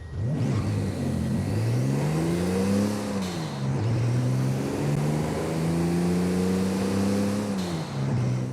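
A GMC Typhoon truck with a 4.3-litre engine revs up through rising gears in Forza Horizon 5, pitch climbing and dropping in smooth sweeps, loud and close with a constant mechanical whir.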